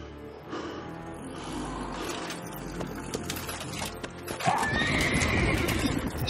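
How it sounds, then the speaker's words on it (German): A horse in The Witcher 3 neighs loudly with a drawn-out whinny and snorts, alongside clip-clopping hooves, close and clear. "Krasses Pferd."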